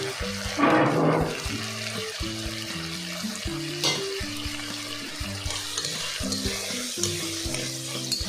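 Chicken pieces sizzle in a pan while being stirred, a close, steady frying crackle with scraping and clatter throughout, alongside faint music in the background.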